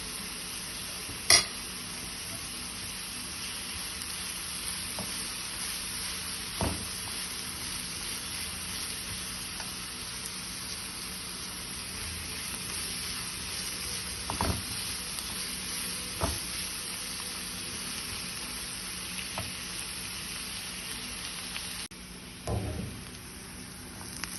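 Sliced onions soften in a pan for a jackfruit and beef biryani, a steady low sizzle running throughout with occasional soft scrapes and knocks from stirring.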